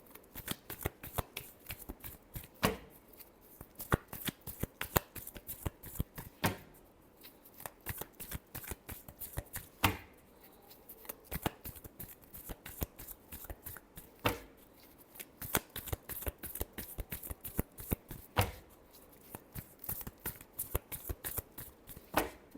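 Tarot cards being shuffled by hand in a Virgo love reading, a steady stream of crisp riffling and slapping bursts with brief pauses, close and fairly quiet, with no talking.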